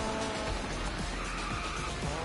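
Car tires squealing as a car drifts with the handbrake in a racing video game, a steady engine drone under repeated screeching skids, with no voices.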